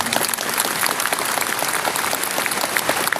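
An audience applauds steadily for Indonesia's Minister of Religious Affairs at a formal gathering in Deli Serdang, many hands clapping in a dense, sustained wash throughout.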